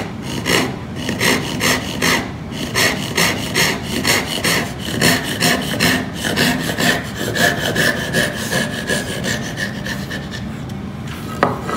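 Hand saw cutting through wood, a steady back-and-forth rasp of strokes repeating about once a second, close and clear for the whole stretch, with no talking.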